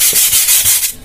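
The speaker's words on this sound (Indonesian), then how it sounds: "Selanjutnya kanopi di amplas mengikuti garis yang sudah kita buat." Fine sandpaper is rubbed in quick back-and-forth strokes over a plastic RC plane canopy, giving a close, crisp scratchy rasp that repeats about four times in a second.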